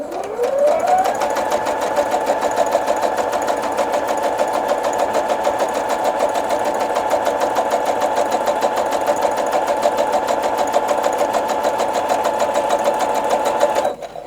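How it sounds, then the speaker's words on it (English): A sewing machine runs a long unbroken burst stitching a quarter-inch seam down fabric strips, revving up quickly at the start and holding a steady, loud whirring hum close by before stopping abruptly. "I'm simply going to sew a 1/4 inch seam allowance all the way down."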